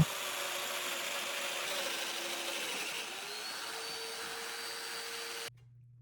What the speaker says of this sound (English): I just cut new dominoes over top of the old ones.